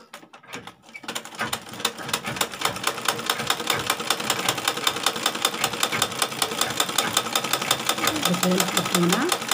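A sewing machine stitches a line through fabric, building from quiet to a fast, steady mechanical chatter of rapid, even needle strokes that continues close and fairly loud throughout.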